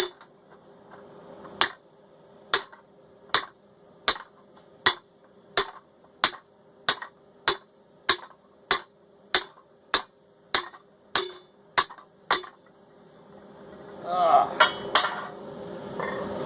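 A treadle hammer made from a modified press strikes metal in a steady series of sharp, ringing clanks, about one per second, loud and close, on an unlevel base plate, followed by a brief clattering rattle.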